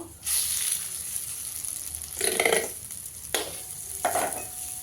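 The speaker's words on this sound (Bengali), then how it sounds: "চালটা দিয়ে ভেজে নেব। ভালো করে ভেজে নিতে হবে।" Rice grains frying with whole garam masala in a pan for Gopal bhog pulao, a steady close sizzle broken by several stirring scrapes and bursts of crackle, with no talking.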